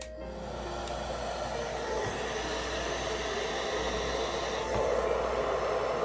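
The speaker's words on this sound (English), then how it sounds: "just on like a low heat, I'm going to blow dry it" A hair dryer on low heat blows steadily on hair being dried, making a continuous close hiss and whoosh with a low hum under it and small shifts as it moves.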